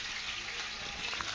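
Coated fish frying in hot oil on a Sunday at home, a close, continuous sizzle and crackle without a break, no talking.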